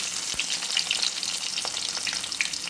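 Cumin, garlic and onions fry in hot oil with a loud, steady crackling sizzle, close up and scattered with sharper pops, with no talking.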